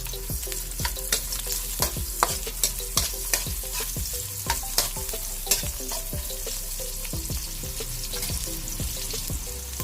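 Onion sautéing in a pan for ginisang corned beef, loud steady sizzle with frequent sharp scrapes of a spatula stirring at an uneven beat, close up and with no talk.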